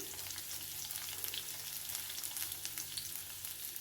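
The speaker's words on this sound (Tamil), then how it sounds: "இப்போ நல்லா வெங்காயம் வதங்க வரைக்கும் நம்ம வச்சு எடுத்துடலாம்" Onions sautéing with salt in a pan for a potato fry, giving a steady, close sizzle with light crackles and no talking.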